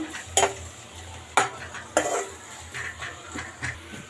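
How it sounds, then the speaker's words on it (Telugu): Onions cooking in about three spoons of oil in a pan: a low sizzle broken by several loud spatula knocks and scrapes against the pan as they are stirred. "ఇప్పుడు అదే ప్యాన్లో ఒక త్రీ స్పూన్స్ ఆయిల్ వేసుకున్నాను నేను ఇప్పుడు ఆనియన్స్ వేస్తున్నాను"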